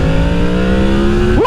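A motorcycle engine revving while being ridden, a loud, steady droning hum held close that rises sharply in pitch in a quick rev near the end.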